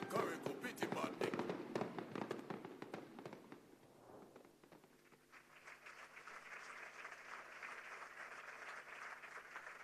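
A dense burst of crackling claps at a government heads' conference opens loud, fades mid-way, then gives way to a softer, sustained sustained wash of crowd noise.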